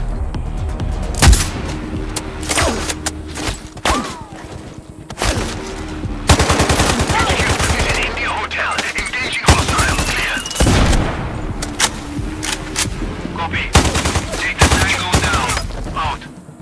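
Rapid, loud gunfire and explosive booms in the video game Sniper Ghost Warrior Contracts 2, with sustained bursts and sharp shots layered over dense game effects and brief radio-style voices.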